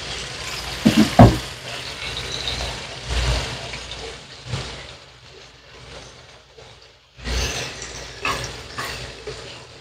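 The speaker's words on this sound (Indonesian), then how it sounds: "mau masak sambal goreng udang ya mau saya goreng dulu sebentar" Shrimp frying in hot oil for sambal goreng udang, a steady crackling sizzle with bursts of spattering and occasional stirring, close and continuous.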